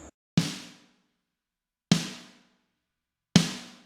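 Snare drum sample brightened with treble-boosting EQ and compression, struck three times at a steady pace, each crisp hit ringing briefly before silence, with a faint blip at the very start.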